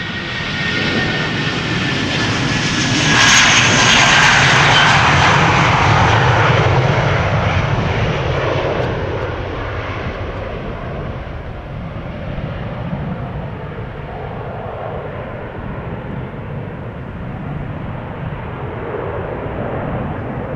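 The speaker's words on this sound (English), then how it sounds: "BA already going. A320, flight 431, going to London Heathrow." British Airways Airbus A320, 15 years old, departing Amsterdam Schiphol for London Heathrow: a loud, close jet roar that swells to a peak early on, then slowly fades into a steady, distant rumble.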